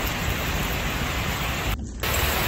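Heavy downpour with hail in mid-June at a restaurant near Jakjeom Pass on the Baekdudaegan ridge, a steady dense roar of rain, loud and continuous, broken by a brief dropout near the end.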